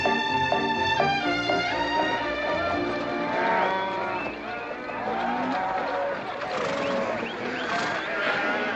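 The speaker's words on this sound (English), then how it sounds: "You got cattle in the back, boss." Cattle in the back of a truck moo in long, loud, drawn-out calls that overlap and waver in pitch, continuing through the whole stretch.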